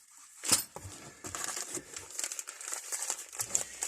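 A plastic bag holding Allen keys is handled at close range, giving a steady crinkling and rustling with a sharper crunch near the start, then irregular soft crackles and faint metallic shifting throughout.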